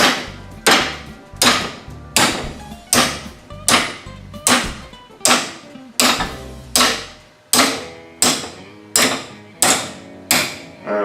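A threaded steel rod being bent cold with a hammer: about a dozen loud, evenly spaced metallic blows, each ringing briefly before the next, with no talking.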